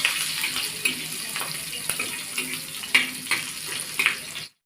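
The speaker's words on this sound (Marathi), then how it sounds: "आता आपण घालत आहोत कांदा" Onion frying in a pan gives a soft, steady sizzle with a few light clinks of stirring, close by and with no talk. It stops abruptly at the end.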